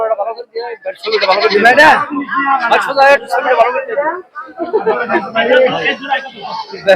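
Goats bleating at the Kaitla goat and ram market in Tangail, Bangladesh, with repeated wavering calls rising over a dense hubbub of crowd voices and people talking nearby.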